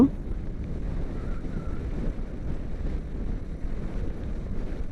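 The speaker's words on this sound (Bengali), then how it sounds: "প্রচুর বাতাস আজকে প্রচুর বাতাস" Strong wind on the Padma Bridge buffets the microphone in a constant low rumble and roar, gusting unevenly throughout with no voices.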